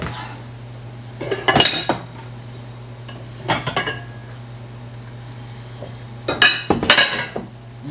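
Bowls and dishes clattering in a kitchen as another bowl is fetched, several bursts of ceramic and metal clinks separated by quiet pauses over a low steady hum.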